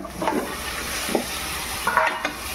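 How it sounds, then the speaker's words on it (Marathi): Chicken pieces stirred into turmeric and masala in a pan for a chicken and potato curry, with a few short scrapes and sizzling bursts over a soft frying hiss, fairly close and without talk. "याच्यात चिकन टाकायचं आहे आपल्याला।"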